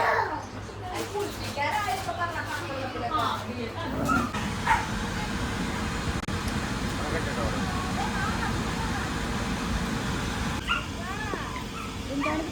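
A pet dog at home gives short yips, barks and whimpering cries in bursts, fairly close, while people talk over it and noisy household commotion continues throughout.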